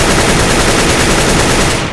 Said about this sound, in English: when you're shooting a rifle and you're moving, especially with the AK, you're inaccurate